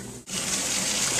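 Hot water pours steadily from a pot into a strainer in a kitchen sink, a loud, continuous gushing rush after a brief pause at the start, close and alone.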